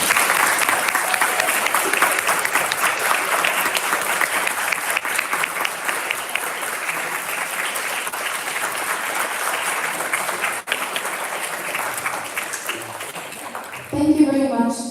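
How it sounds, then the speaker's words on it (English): Delegates at a veterinary student symposium general assembly in Morocco clap steadily for the daily helpers, a long dense round of applause that thins near the end as a voice begins speaking. "Seeing none, you can clap your hands."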